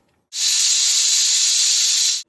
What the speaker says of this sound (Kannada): ನೋಡಿ ಕುದಿ ಬರ್ತಾ ಇದೆ.